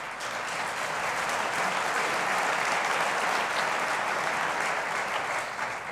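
Sustained audience applause fills a hall during a plenary session of an ecumenical church congress, a dense, steady wash of many clapping hands with no voices, holding level for about six seconds.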